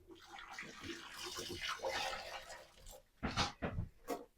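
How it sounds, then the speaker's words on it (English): A descaled kettle being emptied and rinsed out: water splashes and pours into a sink in uneven bursts, with a sloshing rush followed by shorter gushing spurts, close by. "I'm going to empty that, rinse it out"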